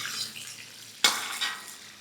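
Mustard seeds, chana dal and other tempering seeds crackle and sizzle in hot oil for Telugu-style mint (pudina) rice, a steady fry with a sharp burst as more seeds drop in, then continued crackling, no voices.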